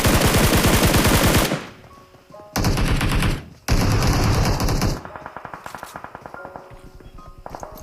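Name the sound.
gunfire in the video game PUBG Mobile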